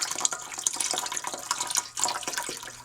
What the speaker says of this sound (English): The first step is you want to pour your water and your veggie broth into a large pot.